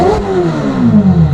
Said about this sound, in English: This car already fitted with the NOVITEC exhaust system.